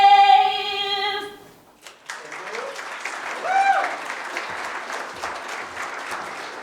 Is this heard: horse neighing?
no